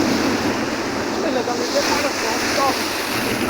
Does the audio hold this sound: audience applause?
no